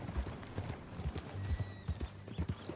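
Horse hooves clip-clopping in Red Dead Redemption 2, a steady walking rhythm of soft, close hoofbeats on dirt, heard alone and fairly quiet.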